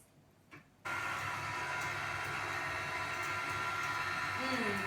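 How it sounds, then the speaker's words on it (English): An electric mixer runs on low speed through dry ingredients for an orange chiffon cake, switching on after a brief quiet moment and then holding a steady, even whir close by to the end. "Next, I'll mix our dry ingredients on low for about 1 minute."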